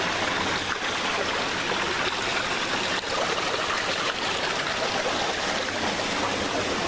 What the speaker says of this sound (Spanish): Este río de acá que pertenece al río Lempa.